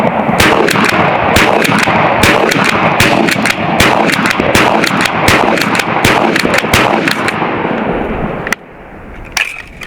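An AEA Megalodon .58 caliber supersonic airgun, charged to 4,000 PSI, is fired as fast as possible, a dense string of loud, sharp cracks over heavy rumble that stops abruptly near the end.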